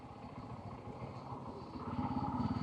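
Motorcycle engine following close behind a car on a road at night, a steady mid-pitched drone with rhythmic pulsing that grows slightly louder toward the end.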